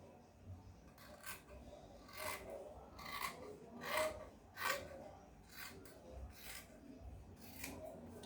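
Scissors cut through fabric for a simple kimono jacket, making soft rasping snips in an irregular series, close but very quiet.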